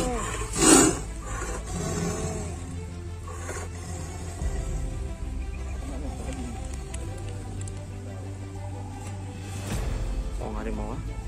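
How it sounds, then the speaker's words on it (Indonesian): Sumatran tiger roaring, a single loud, close roar near the start followed by lower growls and rustling under steady rain-like noise, with people talking in the background. "Oh, harimau."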